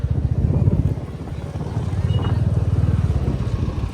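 A motorcycle climbing uphill on a mountain road toward Ghandruk near Pokhara, its engine a close, steady low throb that rises and falls slightly with throttle, with faint voices beneath.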